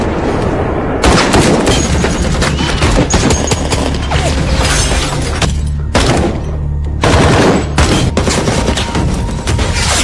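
Dense, loud bursts of gunfire and heavy booming shots fill a film shootout between a former soldier and mafia gunmen, rapid volleys with brief pauses between them.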